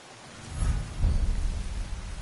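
Rain pours steadily in Assassin's Creed Shadows while low rumbling thunder rolls in and swells, loud and close with no voices.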